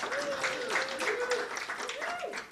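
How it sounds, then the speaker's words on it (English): Audience applause for a panel at a real estate brunch-and-learn event, steady mid-level clapping with a voice intoning over it. "Give them all a round of applause"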